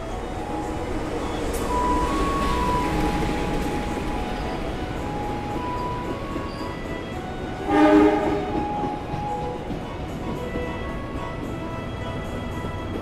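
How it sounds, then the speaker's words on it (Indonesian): The Matarmaja passenger train pulls into a station, its rumble steady under ambient noise, and a loud horn blast sounds near the end; a faint high tone rings briefly earlier. "Yang akan masuk itu adalah kereta api Matarmaja ya, dari stasiun Malang tujuan stasiun Pasar Senen."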